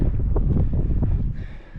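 Gusty wind buffets the microphone on the exposed windy side of a mountain hiking trail in the Southern Ruahine Ranges, a close, low rumbling blast lasting under two seconds.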